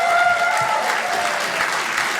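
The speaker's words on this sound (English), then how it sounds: "Applaud if you are 50 and older." Audience applause from people aged 50 and older at a stand-up comedy show, a steady dense wash of clapping held at an even level with a few faint voices mixed in.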